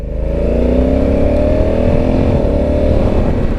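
A 2022 Honda Africa Twin motorcycle pulls away in automatic mode, its engine note climbing steadily through a loud, close, continuous rev with rising pitch and faint gear shifts.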